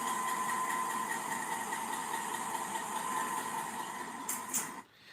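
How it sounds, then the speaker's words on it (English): GE locomotive engine idling after starting up, a steady droning hum with strong tonal whine that holds evenly, then cuts off abruptly near the end. "GE-9 starting up, a locomotive starting up."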